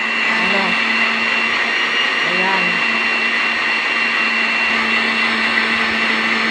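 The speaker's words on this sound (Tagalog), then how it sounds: "Ayan, biniblender ko siya. Ayan, blender natin ng mapino." A blender whirs loudly and steadily throughout, finely blending papaya peel, a constant motor drone, with a voice briefly speaking over it.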